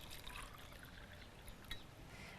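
Tap water trickles and pours faintly over a tea bag, a soft, continuous liquid patter with a few slightly louder splashes.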